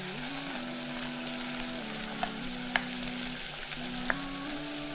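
Tomatoes frying in a pan with meat over low heat, giving a steady, even sizzle at close range with a few faint clicks and a low hum underneath, no voices.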